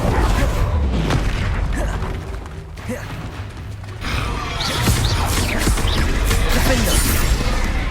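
An Incendio fire spell from the video game Hogwarts Legacy roars and crackles with heavy booming, brief thuds and crashes, a loud steady wash that dips for a second before surging back.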